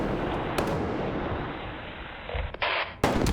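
Grenade explosion in the Roblox shooter DEADLINE, a sharp blast followed by a long rumbling reverberant tail, with further sharp crack-like bangs near the end, loud and close.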